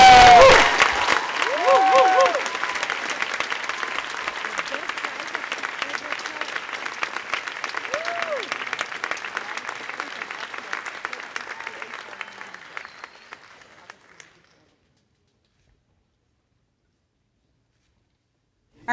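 Audience applause at a high school graduation ceremony: a large crowd claps steadily, with a few brief cheers at the start, then gradually fades out to silence.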